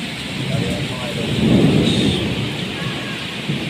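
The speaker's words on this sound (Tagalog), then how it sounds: "Ulang-ulan dito sa Jeddah. Sobrang lakas." Heavy rain pours steadily in Jeddah, Saudi Arabia, with a deep rumble of thunder swelling in the middle before easing back into the constant close downpour.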